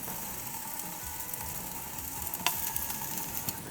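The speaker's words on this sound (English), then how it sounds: "a happy piece of meat just sizzling away, getting up to temperature slowly while building up a delicious crust" Chicken pieces sizzling on a barbecue grill, a steady close crackling hiss with small pops and one sharper snap partway through, no voices.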